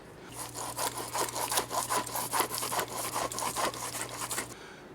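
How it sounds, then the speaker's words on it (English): A bad wheel bearing on a 2004 Pontiac Aztek gives a continuous rasping grind that pulses in quick, regular waves over a low steady hum, moderately quiet and close, with no voices. "Actually, this one does make a grinding noise."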